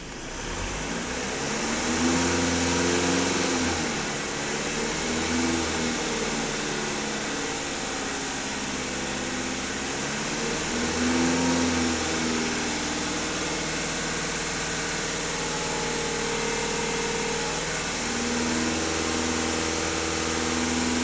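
A VW Passat B8 2.0 TDI 4x4 diesel engine runs steadily and is held at about 2500 rpm, giving a continuous, fairly loud drone with slight rises and falls throughout, close to the listener, with no speech.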